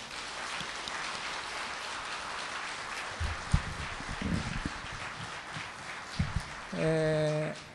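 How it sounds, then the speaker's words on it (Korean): Audience applause at a Korean book concert for Kim Seong-ho, a soft continuous patter of many hands, with a few nearby louder claps and a voice starting to speak at the end. "우리 뜨거운 박수 한번 쳐주십시오"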